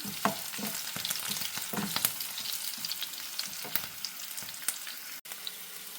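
Ginger, garlic and green chilies sauté in oil in a pan for a soya chunk pickle, a steady close sizzle broken by the scrape and clink of stirring, with no talking.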